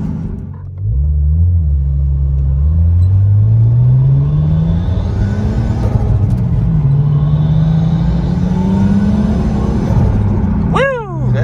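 A car fitted with an R34 RB25DE NEO intake mod accelerates hard from inside the cabin, the engine note climbing steadily through the gears with a loud, continuous intake roar and a brief shift near the end.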